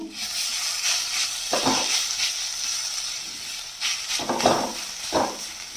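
Grated boiled potato drops into a pan of fried vegetables with soft thuds and stirring scrapes, set over a steady background hiss of sizzling oil, with scattered small crackles.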